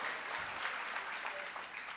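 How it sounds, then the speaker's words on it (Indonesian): A church congregation applauds in a short burst of steady, fairly faint clapping heard from a distance inside the hall. "Tepuk tangan yang meriah untuk kemuliaan Tuhan"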